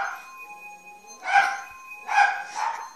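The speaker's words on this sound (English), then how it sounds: "Sorry, my dog's barking." Two or three muffled dog barks in quick bursts, heard somewhat distant over a steady electronic hum, with no talking.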